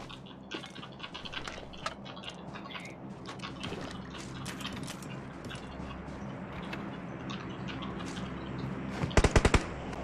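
Gunfire in the battle-royale game PUBG, a burst of several rapid close shots near the end over a busy, noisy game background with scattered clicks and impacts.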